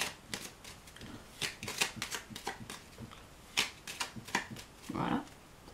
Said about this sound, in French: maintenant, je vais mélanger le paquet